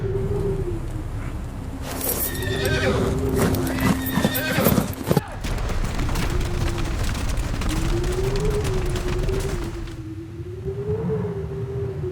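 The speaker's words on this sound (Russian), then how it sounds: "Лошади не идут пятиться, это дурной знак." Horses neigh and whinny in a snowy, cold setting, with drawn-out wavering calls over heavy hoof clip-clop and stamping, a loud burst of clatter midway, then lone whinnies trailing off.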